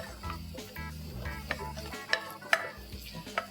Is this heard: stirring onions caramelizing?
yes